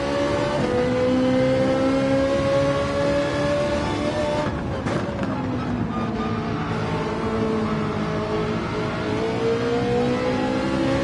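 A Ferrari race car engine in Gran Turismo 7, played in VR on PS5, drones loudly and continuously, its pitch climbing and dipping through gear changes with a brief roughening midway.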